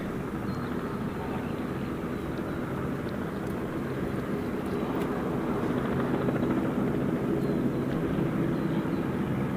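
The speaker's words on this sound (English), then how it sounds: "where's this helicopter?" A helicopter at Gold Coast Airport gives a constant, heavy rumbling engine and rotor drone from start to finish, moderately loud and steady, with no talk over it.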